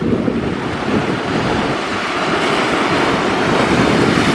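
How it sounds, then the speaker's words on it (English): North Sea waves breaking and washing up a beach, a loud continuous roar of surf with heavy wind buffeting the microphone and no voices. "Watching the waves."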